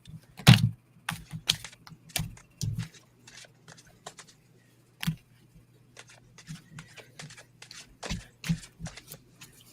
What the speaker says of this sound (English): Let's shuffle some of these up.